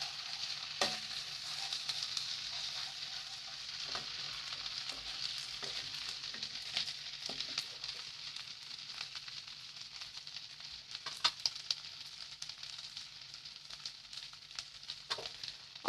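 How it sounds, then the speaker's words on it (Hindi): Ginger garlic paste frying in a pan for restaurant-style butter chicken: a steady, close sizzle with scattered scrapes and taps of a spoon stirring, and no talking. "जिंजर गार्लिक पेस्ट को हम अच्छी तरह से भून देंगे।"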